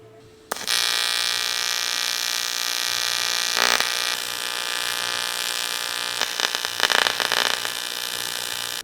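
A welder buzzes steadily while tack welding a hot side part on a Nissan R31, a loud continuous crackling hum lasting several seconds with slight surges in intensity.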